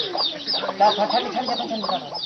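Chicken clucking steadily and close by, a dense run of short repeated clucks with no talk over it.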